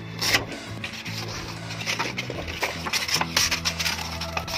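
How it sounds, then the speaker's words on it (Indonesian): Rapid rasping strokes come from wet 1000-grit sandpaper scrubbing the inside of a car's brake master cylinder with soapy water, close and busy over a faint low hum. "bagian ini bagian masternya yang di dalam ini kita bersihkan dengan cara diamplas ya, gunakan amplas 1000 atau amplas 2000 ya"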